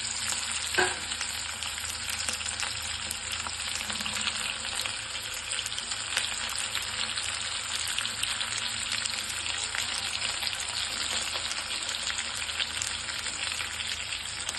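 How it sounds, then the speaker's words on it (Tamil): Onions sautéing in oil in a pan for okra poriyal, an even, close frying crackle that runs steadily from start to finish, with one faint knock early on. "வெங்காயம் நல்லா வதக்கிக்கலாம்."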